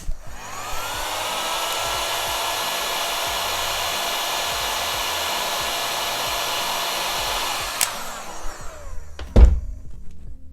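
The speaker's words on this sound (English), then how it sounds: "Now that our heat gun is preheated and ready to go, we're just going to apply even, hot, gradual heat to the coaster." A preheated heat gun blows hot air onto a pine coaster in a loud, steady, breathy roar that runs for about eight seconds and then cuts off, followed by a few clunks as it is handled.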